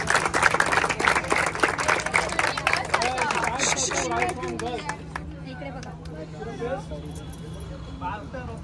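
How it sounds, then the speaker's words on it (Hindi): Brief burst of clapping from a group of players after a tennis-ball turf cricket match, quickly fading into chatter and voices talking over each other. "खुद के लिए एक बार तालियां बजा दीजिए"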